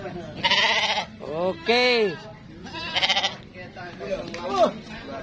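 Goats at a livestock market bleat loudly and close by, several long wavering cries in quick succession, mixed with someone talking and other market voices in the background.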